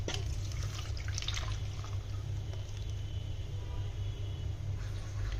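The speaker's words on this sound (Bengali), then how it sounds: "আমি যেই পাতিলা ক্যারামেল তৈরি করে নিয়েছি সেই পাতিলা এখন ঢেলে দিচ্ছি" Pudding mixture pours into a pot lined with caramel, a steady soft liquid stream with faint splashes and drips, close by over a low background hum.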